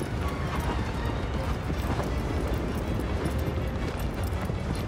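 A horse gallops in the video game Shadow of the Colossus, its hoofbeats a fast, continuous clip-clop under a wash of ambient game noise, steady and fairly close throughout.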